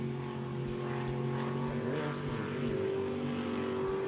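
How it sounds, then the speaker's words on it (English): LS1 V8 engine in a jet sprint racing boat, a loud continuous drone with steady harmonic tones that shift slightly as the throttle changes, close and dominant throughout with no talk. "Shay Francis and Caden Manders in their LS1 powered boat."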